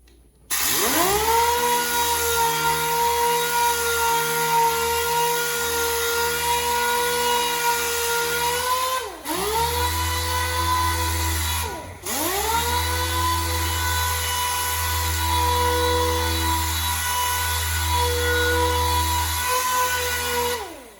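A power sander with 3000-grit paper whines steadily at high speed over a flat-sanded paint surface, a dense continuous buzz that briefly dips and restarts twice before running on.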